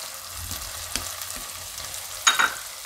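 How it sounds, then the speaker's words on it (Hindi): Spices are added to capsicum and paneer bhurji frying in a pan, giving a steady soft sizzle with a few light taps and a brief louder crackling burst near the end. "अब इसमें हम मसाला डालेंगे।"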